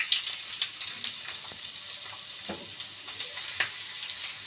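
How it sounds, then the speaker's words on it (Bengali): Chopped onion hitting hot oil for sarisha ilish, a steady close frying sizzle with brisk crackles and a few sharp stirring scrapes and clicks, no voices. "তেল দিয়ে দিয়েছি আগেই, তেলটা আমার গরম হয়ে গেছে। দিয়ে দিলাম 1 মুঠো পেঁয়াজ কুচি।"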